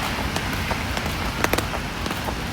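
Rain falls steadily during a typhoon in Japan, a dense, close patter on surfaces with a few sharper drips and taps cutting through.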